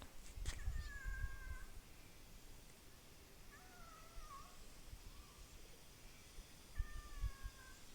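A cat meows several times in drawn-out, wavering cries, spaced apart over a quiet background, with a few soft knocks and a brief thump near the start.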